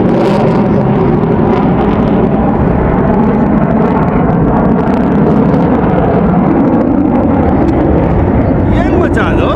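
Military jets, including a Russian Sukhoi, fly past at the Aero India 2025 air show. A loud, continuous jet roar dominates the whole stretch and drowns out the crowd and nearby voices.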